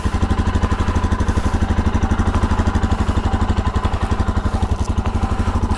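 Royal Enfield Himalayan motorcycle engine idling just after being started after standing two days, a loud, close, steady rapid thumping beat with a mechanical clatter.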